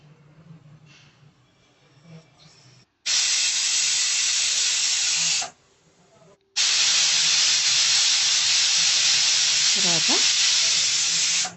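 A pressure cooker cooking mutton curry lets out two long, loud bursts of hissing steam, a shorter one then a longer one, with quieter kitchen sounds between them.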